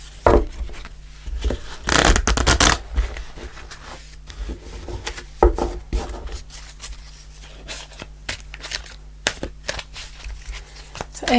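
Tarot cards being shuffled during a weekly Sagittarius reading: dry papery riffles and rubbing bursts, loudest around the second and fifth seconds, with scattered soft taps and card clicks in between, close and with no talking.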